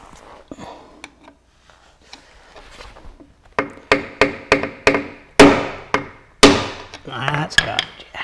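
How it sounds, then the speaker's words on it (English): A hammer strikes repeatedly on a 40hp Mercury four-stroke outboard motor, with light scattered taps at first, then a run of loud, ringing blows spaced about half a second apart. "And I'll get a bigger hammer."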